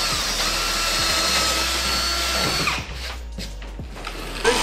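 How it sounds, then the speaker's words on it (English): A power drill bores out mounting holes in boat plywood, its loud steady whine broken by short bites into the wood before it drops to quieter spin-downs and clatter at close range. "So what we're gonna do is just drill these out."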